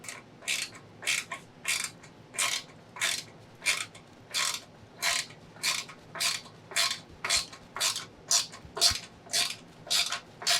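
Bolts being tightened with a ratchet while fitting a billet tank lift on a Harley-Davidson motorcycle, a steady series of about sixteen even, close-up clicking strokes with no talk.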